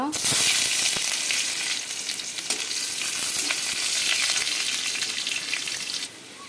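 Panch phoron spices and onion hit hot oil in a pan and sizzle loudly and steadily, a bright hissing fry with small crackles that eases slightly toward the end.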